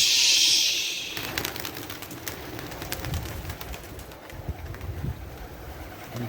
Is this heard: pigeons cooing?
yes